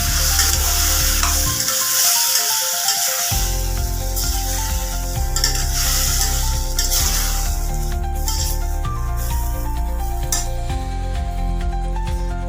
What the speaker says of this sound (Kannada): ರುಬ್ಕೊಂಡಿರೋ ಮಸಾಲೆನ ಹಾಕೋತಾ ಇದ್ದೀನಿ. ಇದನ್ನು ಚೆನ್ನಾಗಿ ಮಿಕ್ಸ್ ಮಾಡ್ಕೊಳ್ಳಿ.